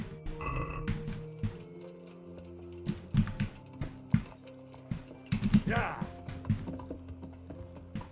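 Horse hooves clip-clop steadily in Kingdom Come: Deliverance, a rhythmic patter of in-game footfalls mixed with other game sounds while a person talks over them.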